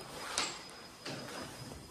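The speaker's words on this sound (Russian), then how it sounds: "Дверь не хотела открываться." An apartment door that did not want to open: a faint click and a brief scraping slide near the start, then a second soft rattle and shuffle, quiet and close.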